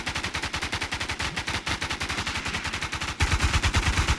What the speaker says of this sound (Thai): นึกว่าโดนยิงจากด้านหน้า